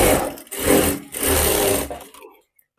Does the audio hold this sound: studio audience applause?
no